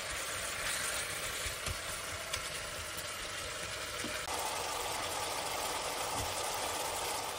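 Ground beef sizzles steadily in a frying pan, a continuous even hiss of moderate loudness with a faint background hum and no talking.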